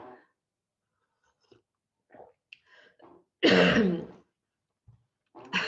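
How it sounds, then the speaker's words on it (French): A single harsh cough or throat-clearing burst up close, surrounded by quiet mouth noises and small sounds. "Ça me fait tousser."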